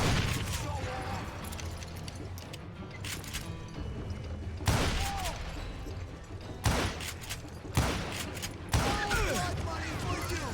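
Gunshots ring out in the Call of Juarez Gunslinger video game: several loud, sharp bursts of gunfire, some in rapid volleys, separated by stretches of game ambience and background sound.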